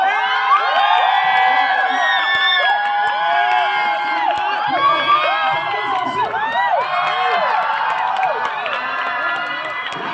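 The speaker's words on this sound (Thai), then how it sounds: "ใครเชียร์ทีมนี้เอาส่งเสียงมาแล้วในสตูดิโอ" A Thai studio audience at a TV competition show cheers loudly for a team, with dense overlapping shouts, whoops and excited high voices filling the whole stretch.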